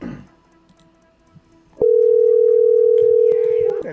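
Steady, loud telephone dial tone on a phone call, starting abruptly partway through and holding unbroken for about two seconds before cutting off, after a quiet stretch of faint room noise.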